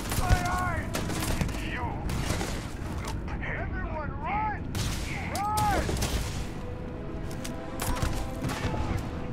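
Pistol gunfire in the sci-fi shooter Starfield, a busy run of sharp repeated shots mixed with sci-fi blips and tones across a dense, loud game soundscape, with someone talking over the action.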